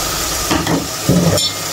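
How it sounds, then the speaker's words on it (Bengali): Spice paste for a meat curry sizzles and fries in a pan, a dense close hiss with a few scraping stirs, loud and continuous with no talk. "মাংসের মশলা কষানো হয়ে গেছে"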